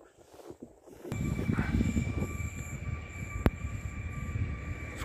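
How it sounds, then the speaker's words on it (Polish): A train pulling away from Modlin railway station in Poland, rumbling wheels rising after a quiet start, with faint wheel squeal tones and a sharp click, heard fairly close and steady. "Niestety pociąg już ucieka."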